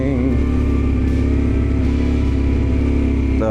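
A CFMoto Ibex 800T motorcycle pulls along in first gear on a rough road, its engine holding a loud, steady, close drone with a slight rise in revs at the end.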